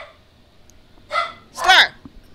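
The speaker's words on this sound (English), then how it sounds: "there goes my dog again." A dog barks from indoors at people working outside, two sharp close barks in quick succession over a quiet background.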